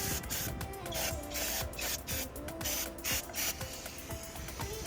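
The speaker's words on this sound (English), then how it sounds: "Don't be shy with the brake cleaner." Brake cleaner sprays onto the valve cover area of a 2007-2012 Nissan Altima 2.5 engine in close, hissing bursts with short pauses between them, mixed with faint mechanical rattles.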